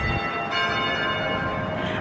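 Chapel bells ring on a university campus, a steady sustained tolling with layered metallic tones heard outdoors from some distance over constant background noise.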